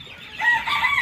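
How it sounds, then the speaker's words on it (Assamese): A golden hen on a home farm gives a short, close burst of clucking, two quick calls in about a second. "এইবিলাক সোণালী মুৰ্গী"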